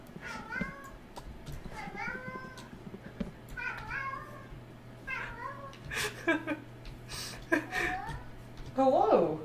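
A cat meows close by, over and over in short, rising calls during a live stream, at times overlapping a person talking to it.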